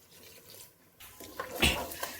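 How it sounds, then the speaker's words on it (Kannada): Water is poured from a glass into a pot while bisi bele bath is being cooked in a pressure cooker, giving a brief, fairly quiet splash and trickle that swells near the end, with no voices. "ಅದೇ ಗ್ಲಾಸಲ್ಲೇ 6 ಗ್ಲಾಸ್ ಅಷ್ಟು ನೀರನ್ನು ಹಾಕ್ಕೊಳ್ತಾ ಇದ್ದೀನಿ."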